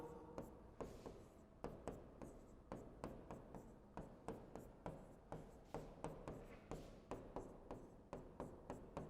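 Steady scratching of pen or chalk writing out an equation by hand, a quiet, close run of short repeated strokes with regular taps, alone with no talk.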